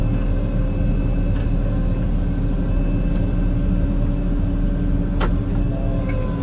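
Tractor backing out past a box scraper, a steady loud engine drone with low rumble and constant tonal hum, one sharp brief click partway through.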